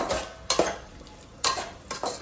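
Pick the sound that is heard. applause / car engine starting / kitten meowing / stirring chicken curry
stirring chicken curry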